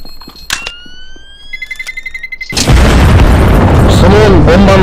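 In Counter-Strike: Global Offensive, a tonal bomb beeping rises, then a loud, sustained blast of explosive noise takes over abruptly and roars on to the end.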